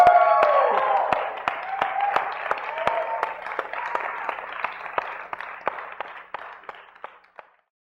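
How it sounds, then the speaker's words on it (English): An audience claps in applause at a live talk event, a loud burst of many hands that thins to scattered individual claps and fades out. "Give him a round of applause"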